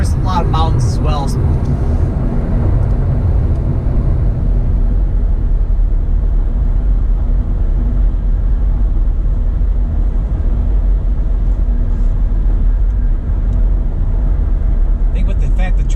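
A car drives along I-81 north through hilly, mountainous Pennsylvania on a three-lane highway, giving a steady, loud broadband road and engine rumble that runs unbroken throughout, with occasional faint talking over it.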